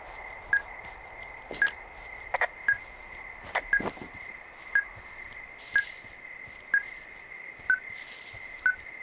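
A signal detector in the video game Firewatch gives short electronic beeps at a steady, evenly spaced rhythm, fairly clear, with faint footsteps and rustling in between.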